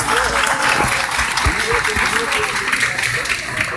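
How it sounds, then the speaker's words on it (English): Audience at a community town hall meeting giving a round of applause, a loud, continuous burst of many hands clapping that fills the room from start to finish. "a round of applause"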